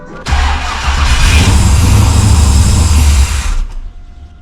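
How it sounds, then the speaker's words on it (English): A Holden VL Calais engine fitted with a Harrop 2300 supercharger bursts into a loud, close, sustained roar under throttle for about three seconds before dropping away abruptly. "Alright, might try a little bit of throttle this time."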